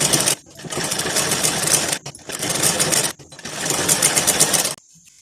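An electric sewing machine basting a blouse lining to fabric runs in three steady bursts of rapid needle clatter, separated by short pauses, then stops.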